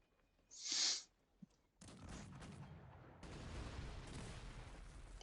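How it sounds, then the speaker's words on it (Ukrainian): Howitzers fire at buildings in the strategy game Cossacks 3, a sharp whooshing blast followed by a brief pop, then a continuous rumble of distant gunfire and crumbling impacts. "гаубиці диви як. Зносять в будівлі."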